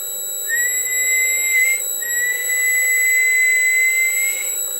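A steady, piercing high whistle tone from an Elkin two-tube mobile radio transmitter on the bench, dead keying 20 watts, holds for several seconds, breaks briefly, then resumes at a slightly lower pitch, loud and continuous.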